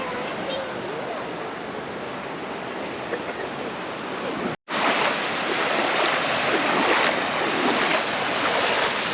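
Steady surf from ocean waves on a Kelantan beach, a continuous broad wash heavy with wind noise on the microphone, briefly cut once midway, with no voices clearly heard.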